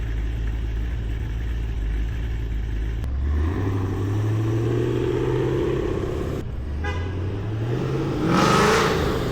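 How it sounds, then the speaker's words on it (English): A cammed Chevrolet SS car engine idles low, then revs up in rising sweeps twice, ending with a louder roaring burst, close and continuous. "Your car sounds crazy, bro."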